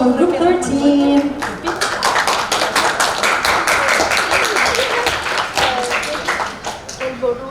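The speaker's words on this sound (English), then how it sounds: "Everyone please, round of applause for group 13." Audience applause at a youth business idea competition, a dense run of many hands clapping loudly and steadily through the whole stretch, with a brief voice at the very start.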